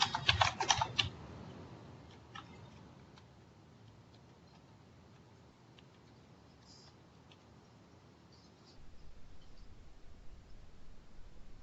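Someone types on a computer keyboard in a quick, clattering burst of close clicks at the start, then only a few faint scattered taps over a quiet room hiss.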